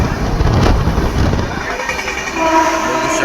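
A local train runs along with its door open, giving a loud, close rumble and rattle of the carriage with clickety-clack and wind noise that eases slightly toward the end.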